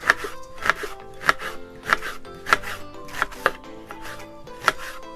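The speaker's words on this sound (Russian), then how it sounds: "Теперь берем репчатый лук и нарезаем обычными полукольцами." A knife slices an onion into half-rings on a cutting board, giving about nine crisp, evenly spaced chops close by, with no talking.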